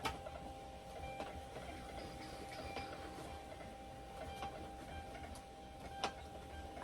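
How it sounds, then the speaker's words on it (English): Rollo thermal label printer running off a 4x6 shipping label, a steady mechanical whir with faint repeated clicks throughout, fairly quiet and close, with no talking. "I love my Rollo printer."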